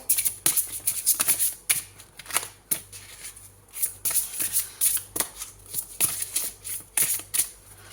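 Béline oracle cards by Gabriel Sanchez are shuffled by hand in close, loud, rapid riffling bursts that repeat in an uneven rhythm, with no talking.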